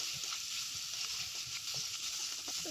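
Chopped cauliflower frying in a pan makes a constant soft sizzle with faint stirring scrapes underneath, fairly quiet and with no voices.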